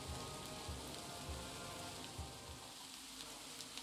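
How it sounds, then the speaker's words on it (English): Steady rain in the video game Rise of the Village Hero patters and hisses over a surface, a dense continuous wash with a few soft low thumps underneath. "I know I've seen it rain. I can hear the rain"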